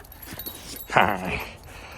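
A dog at Jade City gives soft whimpers and then one sharper, louder yip in the middle, fairly close and brief, with no talking.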